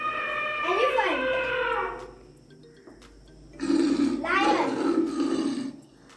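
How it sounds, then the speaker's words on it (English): A lion roars twice: a long, deep, rasping call, a short quiet pause, then a second heavy roar of similar length, both loud and close with no other sounds. "Lion."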